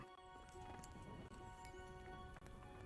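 Horse hooves in the video game Kingdom Come: Deliverance, a steady clip-clop of riding over a constant rumbling background, close and fairly loud.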